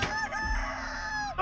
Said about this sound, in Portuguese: Oh, o frango tá puto!